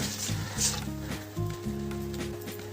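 Tamarind pulp and water hit a hot panch phoron tempering for a sour puti fish dish, giving a soft, steady sizzle that stays faint and close beneath a sustained tonal background.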